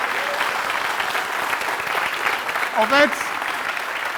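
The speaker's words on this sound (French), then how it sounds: "Applaudissements!" Studio audience at a television comedy show applauds continuously, a dense even wash of clapping, with a voice briefly speaking over it near the end.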